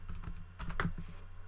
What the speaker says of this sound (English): I could check my work by typing it in